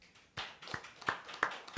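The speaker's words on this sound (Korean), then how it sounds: "우리 김영호 형제님께서 우리 같이 박수 한번." A church congregation gives a round of applause at an early-morning service, sounding as a few distinct, spaced claps, quiet and somewhat distant in a reverberant room.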